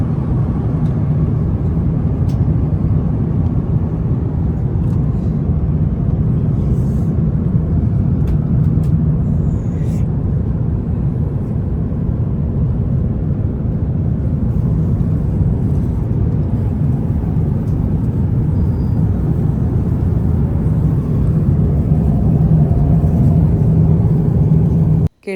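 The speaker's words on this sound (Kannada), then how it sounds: "ಇನ್ನು ಸೌಂಡ್ ಹೇಗಿರುತ್ತೆ ಅಂತ ನೋಡಿ ಫ್ಲೈಟ್ ಒಳಗೆ" A steady, loud low roar of jet engines fills an airliner cabin during an evening flight, holding as an unbroken drone for a long stretch with only faint clicks above it.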